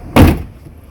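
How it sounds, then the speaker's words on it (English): A classic truck's door operated with a single short heavy clunk near the microphone, followed by quiet. "Oh, I guess you have to open up the door."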